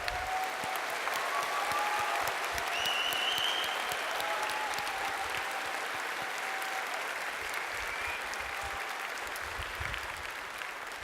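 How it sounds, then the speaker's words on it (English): Sustained applause from a large audience at a University of Waterloo graduation ceremony, steady and fairly loud throughout, with a few faint whistles rising above the clapping. "So let's give them a nice round of applause"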